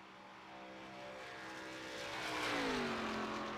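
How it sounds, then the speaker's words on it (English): The No. 48 stock car's engine drones steadily around Talladega superspeedway in a racing video game, its pitch climbing as the car gathers speed, heard faint and distant with no talk. "As Hunter makes his way around the track, trying to get his car up to speed"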